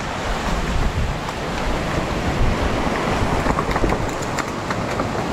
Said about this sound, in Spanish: Cachate cómo corre el agua.